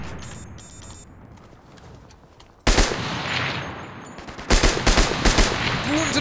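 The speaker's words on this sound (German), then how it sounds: "Schuss!" Gunfire in the video game Cuisine Royale: bursts of rapid shots crack out in the second half, loud and close, with a quieter stretch of game ambience before them.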